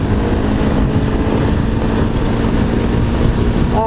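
Honda CRF250L Rally motorcycle engine running hard and close after a downshift, a loud, steady buzzing drone with constant wind rush across the whole stretch.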